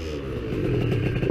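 A cold scooter engine catches and runs, a close, steady low putter with a slightly rough, uneven rhythm and a few louder pulses at the end.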